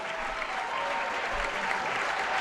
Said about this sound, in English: I hope you can hear the crowd.